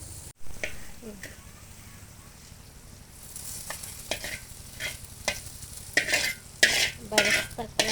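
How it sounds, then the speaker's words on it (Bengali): Onions frying in hot oil until crisp and browned for a Bengali beef curry, with a low steady sizzle and bursts of stirring and scraping that grow louder and more frequent toward the end. "এই পেঁয়াজগুলো বেরেস্তা করে নেওয়া হইতেছে।"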